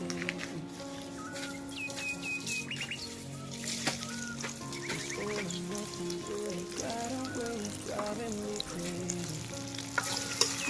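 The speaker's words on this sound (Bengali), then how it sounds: "এখন পেঁয়াজটাকে কিছুক্ষণ ভেজে নেব।" Onions frying in a pan with a bay leaf, village-style Bangladeshi cooking; steady close sizzle with scraping stir strokes and light clinks, no talk.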